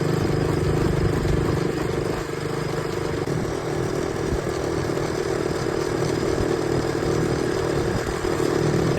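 An RC motorcycle's engine runs steadily under way, a loud, continuous mid-pitched drone with rough clattering texture and no pauses throughout.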